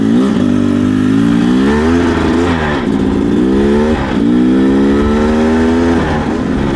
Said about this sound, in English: Let's go ride dirt bikes.